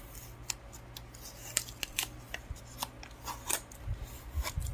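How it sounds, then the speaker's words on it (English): Tape being peeled and scratched off a mail package, close scratchy ripping and rubbing sounds in irregular short bursts, fairly quiet with no talking. "I'm removing the tape on one of them."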